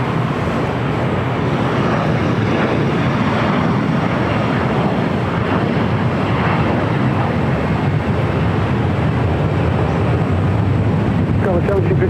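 A jet aircraft takes off from runway 24 right at LAX, giving a loud, steady, broadband engine roar that holds at constant strength throughout with no break.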